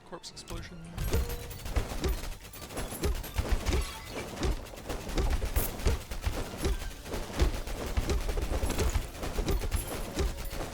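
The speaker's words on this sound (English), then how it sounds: "Double corpse explosion." Double corpse explosion skill going off in the Tower of Babel: Survivors of Chaos game, a dense run of repeated blasts and crashing impacts over continuous game noise and music.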